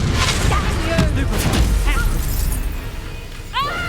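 A Confringo spell blast goes off in a video game, a bursting crash amid dense, busy game audio with whooshing effects and a voice talking over much of it.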